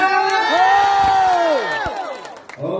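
A large crowd of young participants at a regional scout jamboree carnival in South Sumatra shouts and cheers together in a loud, sustained roar that swells, then trails off before a fresh burst of voices.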